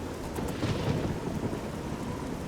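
Steady rain with low rumbling thunder fills the outdoor world of the Oblivion video game, a dense continuous wash with no voices and no distinct strikes or pauses.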